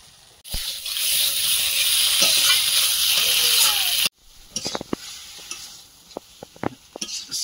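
Green peas and potatoes stirred in a hot pan, with steady loud sizzling for several seconds, then quieter scraping and clattering spatula strokes.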